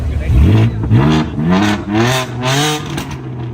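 A BMW M4 engine revs up and down repeatedly at a car meet in India, close and loud, its pitch rising and falling in waves.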